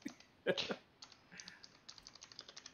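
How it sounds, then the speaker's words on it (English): A computer keyboard clatters as someone types into a search bar: an uneven run of light, close key clicks follows a brief louder burst at the start. "He's typing in the search bar right now."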